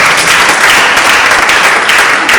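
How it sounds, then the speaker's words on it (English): Loud, dense audience applause fills a business summit hall, a continuous wash of clapping heard up close with no talk over it. "I will give another round of applause."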